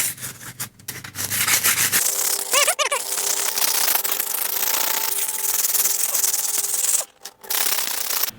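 Sandpaper roughs up an aluminum surface to help paint stick: a close, continuous rasping scrub with a brief squeak partway through and a short pause near the end.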